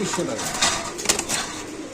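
Racer pigeons sold in a market coo and stir nearby, a busy close murmur of calls with brief bursts of wing fluttering, while voices talk over them.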